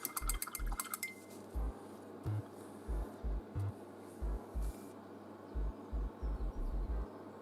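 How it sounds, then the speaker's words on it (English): A small miniature-painting brush is rinsed in a water pot, giving quiet liquid swishes and repeated soft, regular taps against glass, close and alone. "Once you've done that, just rinse it off."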